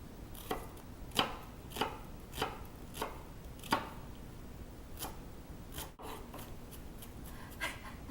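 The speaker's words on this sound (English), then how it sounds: "And now you're going to cut 1 onion." A knife dices an onion on a cutting board with about a dozen crisp, evenly spaced chops, close and clear with no talking.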